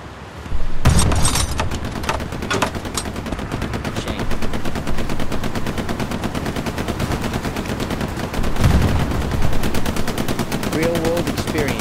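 Friendly fire from a weapon in Hell Let Loose, a continuous rapid rattle of automatic gunfire, close and loud, punctuated by sharper bursts.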